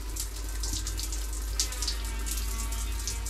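Water runs steadily from a shower head in a newly renovated bathroom, a constant close hiss with a low hum underneath, with no voices.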